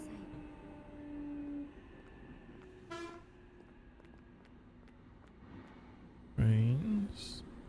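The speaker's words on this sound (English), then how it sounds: "Trains." Trains pass through a station in the video game Sanbansen, with a short toot around three seconds and a louder, nearer horn blast near the end over a low, steady rumble of rail ambience.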